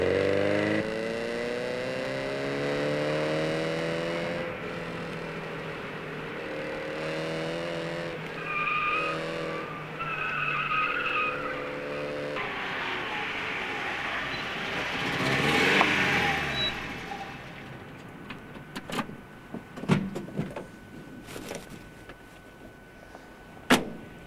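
A 1974 Alfa Romeo Alfasud TI engine drones and climbs through the revs with rising harmonic tones, then tyres squeal and skid, ending in sharp knocks.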